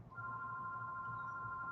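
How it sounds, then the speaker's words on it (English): A house telephone rings with a steady, continuous electronic tone, fairly faint and heard from a distance in an otherwise quiet room. "the house phone is ringing"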